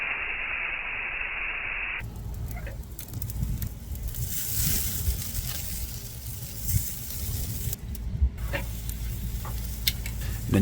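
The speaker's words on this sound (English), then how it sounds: "We are cooking the steak with the direct sear method." Thick steak searing over direct heat on a grill, a loud, steady close sizzle that breaks in after a brief start and crackles continuously throughout.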